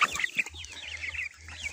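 Two-month-old Livenskaya marble chickens, young roosters and hens, cluck and chatter in a rapid, busy flurry of close calls, with a low rumble running underneath.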